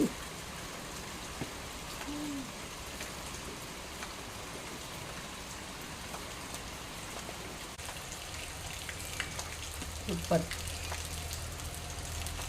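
Rain falls outside while people sit indoors eating, a faint, steady patter in the background with soft voices talking over it and a few small clinks.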